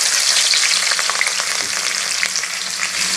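Mustard seeds and green chillies fry in hot oil for a chicken pickle, a loud close sizzle with dense crackling and popping and some stirring, continuous throughout with no voices.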